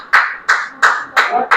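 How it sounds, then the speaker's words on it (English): Students in a classroom clap in a slow, loud rhythm, five sharp claps spaced about a third of a second apart, close and distinct with a little room echo. "What a funny style of clapping is that?"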